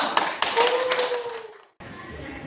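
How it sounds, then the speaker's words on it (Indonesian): Clapping from an audience during a mathematics class presentation session, a mix of hand claps with voices over it, fading out before a brief silence and then room sound. "Tepuk tangan dong."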